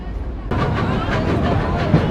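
Steady rumble of a moving passenger train on a long journey, a low continuous roll that starts abruptly and holds evenly, with faint murmur of voices inside the carriage.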